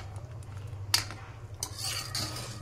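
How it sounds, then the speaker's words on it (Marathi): A spoon scrapes and clinks against a pot while shahi paneer curry with kasuri methi is stirred, quiet scraping with a few sharper metallic touches over a low steady hum. "कसुरी मेथी टाकून छान असं हलवून घ्यायचं आहे."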